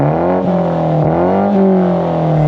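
A BMW F40 M135 with a Cobra Sport stainless steel exhaust holds a loud, buzzy idle-to-midrange drone, its pitch dipping and rising through a few short throttle blips, close up and alone.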